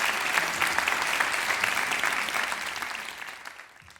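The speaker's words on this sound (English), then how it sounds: "And now a round of applause, please, for Taki, Abbas," Applause from an audience after reciters perform in a Ramadan recitation competition semifinal in London, a dense steady patter of many hands that gradually fades out near the end.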